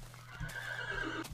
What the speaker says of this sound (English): Here's a horse.